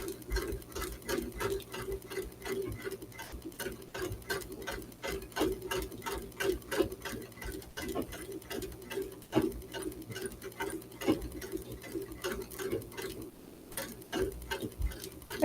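A sewing machine machine-quilting motifs runs with a fast, steady mechanical patter of stitches for the whole stretch, pausing briefly near the end, close and fairly loud.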